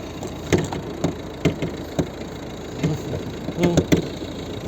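A 2011 Volvo V50 facelift with a 1.6 HDi diesel engine runs at idle, a low steady rumble broken by irregular clicks and knocks, close by with no talk.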